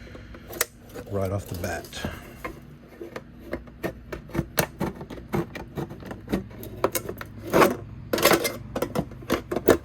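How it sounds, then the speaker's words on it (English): Metal snips cutting a 3x4 metal downspout to make a custom elbow, with repeated sharp crunching snips and metallic clicks close by under intermittent talk. "So we're just going to cut this one"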